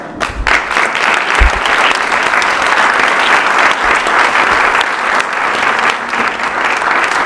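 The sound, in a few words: audience applause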